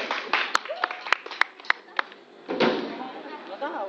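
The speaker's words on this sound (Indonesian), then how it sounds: "Tepuk tangan dong." Scattered clapping from a small audience at a casual live cover-band performance, a few sharp separate claps, then a fuller patter of hands, with people talking over it.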